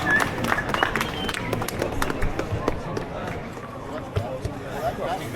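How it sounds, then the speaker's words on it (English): Brief crowd applause at an outdoor protest against digital ID in Glasgow, scattered claps and cheers over steady street noise and nearby talking voices. "Round of applause for Ken Thompson."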